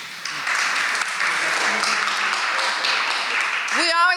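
Audience applause at an arts talk on dance legacies, a steady broad wash of clapping lasting several seconds, with a voice cutting in at the end.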